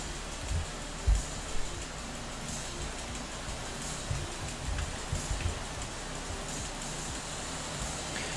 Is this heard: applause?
no